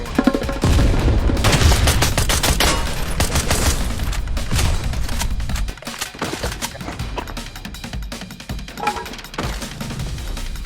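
Heavy gunfire in a shooting video game, rapid overlapping shots and blasts filling the clip, loud and continuous, easing slightly in the second half.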